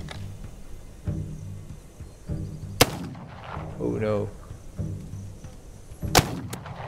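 Hand cannon pistol fired in the survival game This Land is My Land: two sharp, loud gunshots a few seconds apart over steady game ambience, with a brief spoken exclamation in between.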